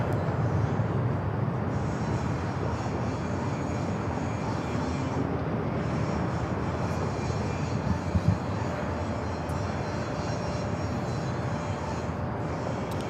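A Delta jet departs San Diego airport, its engine noise a steady, broadband roar holding at moderate loudness for the whole stretch.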